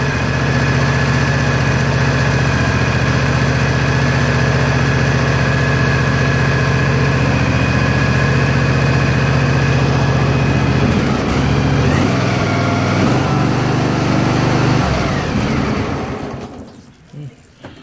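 A Briggs and Stratton 18 hp Vanguard engine runs steadily at a loud, close idle with a deep low rumble and vibration, sagging briefly near the end before cutting out to near silence.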